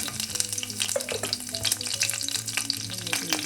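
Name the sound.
mustard seeds, curry leaves and green chillies frying in coconut oil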